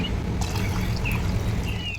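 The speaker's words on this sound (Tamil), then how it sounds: "எக்ஸ்ட்ரா வேணுங்கிற அளவுக்கு தண்ணி சேர்த்துக்கலாம்" Water is poured into a pan of thuthuvalai rasam on the stove, a steady close trickle and splash running continuously for a couple of seconds with no talking.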